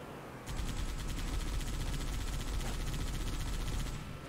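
A Wraith tank firing in Halo Firefight, heard as a dense, loud burst of rumbling blasts and crackling gunfire that starts abruptly and rolls on steadily for several seconds with no talking.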